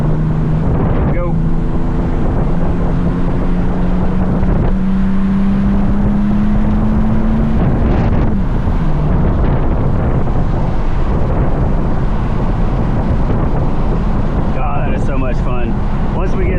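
A turbo diesel Mercedes with a 722.6 automatic transmission is pushed to full throttle from inside the cabin. The engine drone climbs steadily in pitch as it builds boost, then drops at a shift, with heavy wind and road roar over it.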